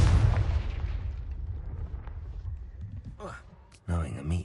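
A Confringo blasting-spell explosion in the video game Hogwarts Legacy booms loud and low at the start and rumbles away over a few seconds, followed by brief speech.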